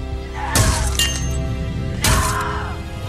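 Glass bottle thrown and shattering, heard as two loud, sharp crashes about a second and a half apart, each bursting into bright splintering fragments that ring briefly before fading.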